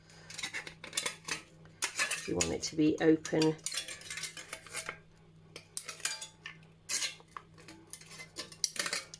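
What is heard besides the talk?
scissors cutting an aluminium drinks can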